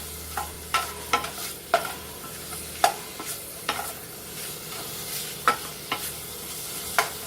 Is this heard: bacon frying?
yes